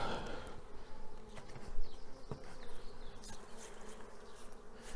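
Honeybees buzz in a dense, continuous drone at close range as bees are shaken off a hive frame, with a few faint knocks.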